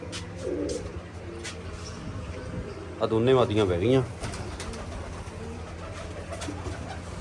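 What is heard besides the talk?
pigeons cooing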